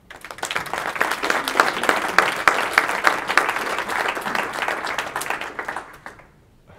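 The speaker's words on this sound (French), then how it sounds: "je pense qu'on pourra vous applaudir" An audience at Montreal's 2014 Open Data Day applauds a speech by Harout Chitilian. Many hands clap in a steady, crowded patter for about six seconds before it dies away.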